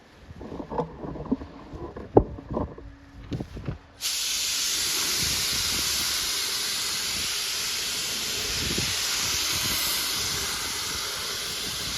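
A spray gun paints the door jambs of a wrecked 2011 Chevy Malibu, starting with a few clunks and handling taps, then a steady, loud, unbroken hiss of spraying for about eight seconds.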